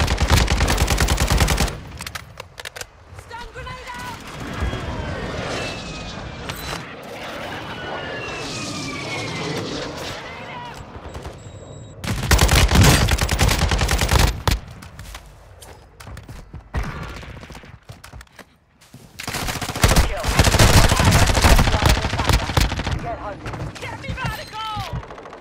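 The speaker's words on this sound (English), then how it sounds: "Friendly airstrike in the air." Airstrike in Call of Duty: Modern Warfare III, with aircraft roaring overhead and bursts of automatic gunfire and explosions, loud and dense in several heavy waves, with brief quieter stretches between them.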